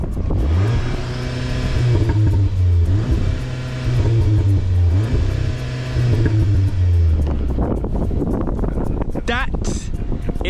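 A VW Golf R MK7.5 engine revs repeatedly with a deep, loud exhaust note, rising and falling over several seconds close to the microphone, while wind buffets and a person talks over part of it.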